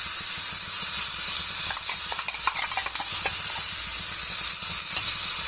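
Ginger garlic paste sizzling loudly as it fries in a pan, a bright continuous hiss with bursts of popping and crackling through the middle, close and unbroken by talk.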